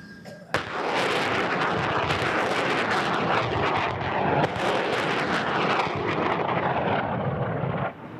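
Military aircraft flying overhead in air support of Kurdish fighters against Islamic State near Mosul, with a loud, continuous roaring rumble that starts suddenly and holds steady, mixed with heavy booming like artillery.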